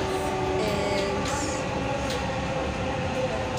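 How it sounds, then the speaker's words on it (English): Vienna metro train riding through the city center, a steady close rumble of wheels on rails with faint squeals and clacks throughout, no talking. "So, guys, we are at the metro."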